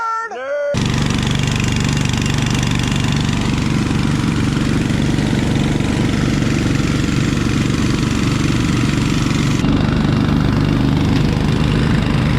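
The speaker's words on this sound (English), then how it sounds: "It's not spinning the compressor when you got pressure on it." A Dahlke engine-driven air compressor runs continuously with a loud, steady mechanical drone and rattle. The engine note shifts slightly near the end and it carries on without pauses.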